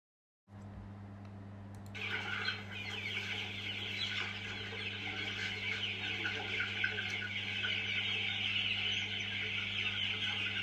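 Chickens and a rooster cluck and chatter on a farm, a dense, continuous flock sound that starts abruptly and carries on over a steady low mechanical hum.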